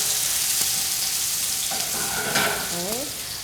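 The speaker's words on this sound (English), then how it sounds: "And I have some onions, which we're going to saute, together with some garlic and parsley." Onions with garlic and parsley sauteing in a pan, a steady close sizzle with occasional stirring scrapes and a few brief tonal clinks near the end.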